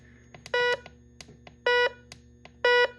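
Foldable metal detector's beeper set to full volume: three loud, evenly spaced electronic tones, each lasting about a quarter second, ring out against faint background clicks and hum.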